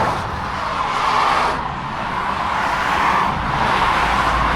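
An Amazon delivery van merges onto a motorway in County Down, Northern Ireland, with a loud, steady road and engine roar that swells and dips gently as it accelerates. There is no talk.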